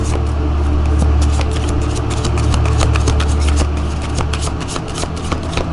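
Tarot cards being shuffled by hand. A loud, close, dense run of riffling card flutters lasts the whole few seconds, over a low steady background hum.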